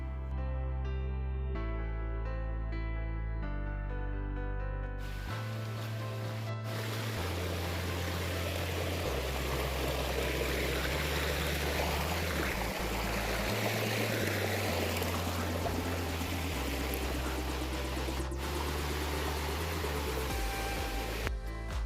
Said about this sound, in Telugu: సో పక్కనే వాటర్ ఫ్లో కూడా అవుతుంది.